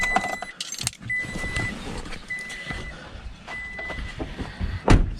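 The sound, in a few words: pickup truck engine starting and running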